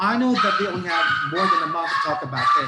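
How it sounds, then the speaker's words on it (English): A dog barks in the background while a person talks continuously over it; the dog sounds fairly close but stays partly buried under the steady speech. "That's the dog. There we have dogs here."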